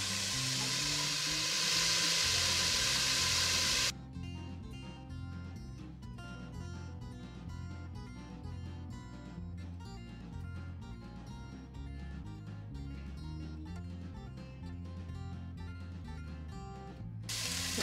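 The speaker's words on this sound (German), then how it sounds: "Als erstes lasse ich nun den Speck in einem großen Topf aus." Bacon rendering in a large pot gives a steady, close sizzle and spray for the first few seconds, then drops away as music takes over for the remainder.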